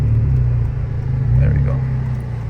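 A 2024 Honda Civic Type R FL5 with a manual transmission rolls backward in reverse, its engine giving a steady low rumble with a slight swell midway, heard close from inside the cabin.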